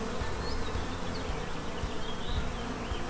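Honey bees buzz densely at a hive with a laying worker, a loud close swarm hum with individual bees whining past, continuous and without talk.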